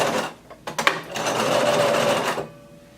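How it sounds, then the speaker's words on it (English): A sewing machine runs a burst of stitches securing elastic inside a casing for a halter crop top, with a few short starts and a backstitch before a steady whir that stops abruptly; close and loud, no talking. "Go ahead and start sewing again"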